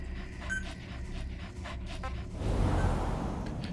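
A dog panting in Metal Gear Solid V, quick breathy huffs close up over game ambience, swelling into a louder rush of noise in the last second or so.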